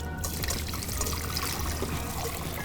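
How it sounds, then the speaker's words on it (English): Beef noodle soup broth being strained for Thai street-food style soup, a steady close trickle and pour of liquid running continuously throughout with no talking. "Just need to strain the broth."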